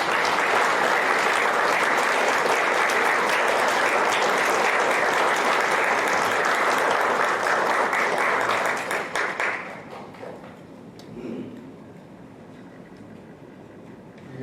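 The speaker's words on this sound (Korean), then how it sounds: "큰 박수 좀 부탁드립니다." Dense applause from a large audience fills the room, then fades out after several seconds into quieter room noise with a few scattered claps.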